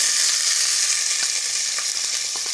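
Onion and garlic sizzling as they hit a hot pan of toasted spices, a bright, hissing fry that holds steady with faint stirring scrapes, close and fairly loud, no speech.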